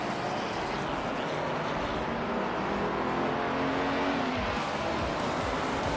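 Race cars in a racing video game, a continuous engine drone with revving that swells and fades as cars pass, loud and steady throughout.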